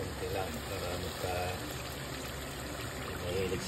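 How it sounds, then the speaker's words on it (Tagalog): Hot water is poured into a cooking pot of igado, Filipino pork and liver stew, a steady close trickling stream with faint bubbling. "Ayan natin ng mainit na tubig."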